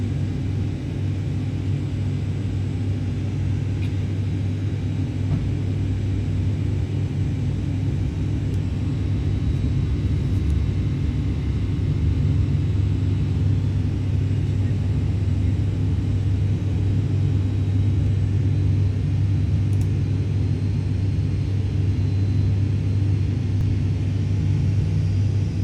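A steady low rumble and drone fills the cabin of an Aurigny airliner on short final to Southampton Airport. The constant hum of engine and airflow is moderately loud and unchanging throughout.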